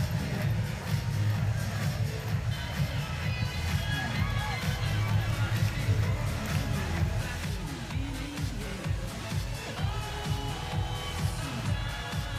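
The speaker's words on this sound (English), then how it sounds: "We're clapping the hands, everybody." A capacity crowd at a baseball game in Richmond, Virginia, between the Firefighters and the Indianapolis Clowns, claps hands together as a dense, continuous roar of clapping and crowd noise, with a voice faintly audible.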